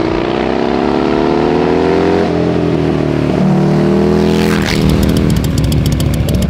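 A Buell XB12S Lightning motorcycle with a Harley-derived 1203cc V-twin revs loudly and close by, its rough engine note climbing and holding before a sharp blip into a rapid, crackling idle-like pulse.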